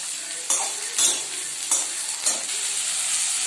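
Potatoes and long beans frying in hot mustard oil while being stirred: a loud, steady sizzle with four or five scraping stir strokes spaced about half a second apart, close up.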